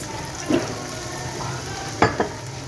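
Masala sizzles steadily in a pan just after a splash of water for a yogurt chicken curry, with a couple of sharp clinks of a spoon against the pan over the hiss.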